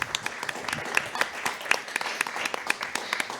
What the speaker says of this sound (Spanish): un aplauso también para usted